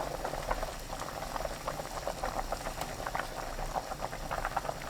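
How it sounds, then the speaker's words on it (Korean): Seaweed soup with potato balls and minced garlic at a rolling boil over high heat, a steady dense bubbling and popping that stays close and even throughout. "팔팔 끓으면 다진 마늘 1큰술, 감자 새알 넣고 센 불로 끓입니다."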